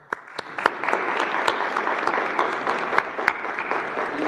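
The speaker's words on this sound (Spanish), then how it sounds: "Un aplauso." An audience applauds steadily at a public event launching El Buen Fin 2025 in Mexico, a dense, sustained clapping wash with a few sharper individual claps, no voices.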